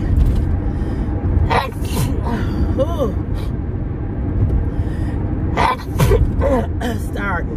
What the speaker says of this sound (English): Going to a whole sneezing fit.